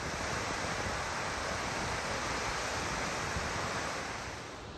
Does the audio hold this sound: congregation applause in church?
no